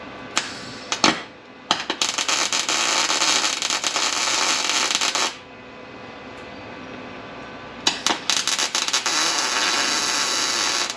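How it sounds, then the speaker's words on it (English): A MIG welder laying tiny spot welds and tacks on the tail light tray of a 1970 Nova: loud crackling buzzy bursts, one short, one long run of several seconds, then a final sputtering burst after a pause, close up. "I put one little tiny MIG tack right there"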